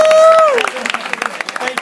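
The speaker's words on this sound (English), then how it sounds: "Give her a big round of applause." Audience at a live comedy magic show breaks into applause after a trick, a burst of clapping and crowd noise that starts behind a loud whistle-like tone and then settles into scattered claps.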